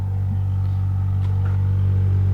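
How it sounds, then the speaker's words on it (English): A 1993 Toyota Mark II JZX90 twin-turbo drift car idles with a deep, steady exhaust rumble through a loud muffler-cut drift exhaust, strong low drone throughout with a slight rev swell near the middle. "it has a loud Drifto exhaust, like muffler cut"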